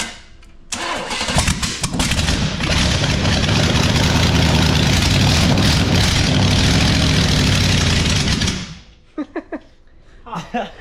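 An off-road vehicle engine with a small two-barrel carburetor cranks briefly, catches on the first try and roars loudly near the microphone, settling into a rough idle for several seconds before cutting off, followed by a few short knocks and sounds.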